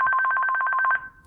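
A Hosmart intercom unit sounds a call ring: a rapid, trilling electronic tone pulsing evenly for about a second, then stopping and fading out, clear and close with no voices.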